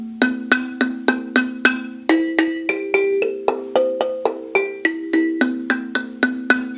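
Metallic tongue notes of a tong gong with loosely held tongues struck one after another, about twenty quick hits at a steady pace, each ringing briefly with a slightly dull, buzzy tone.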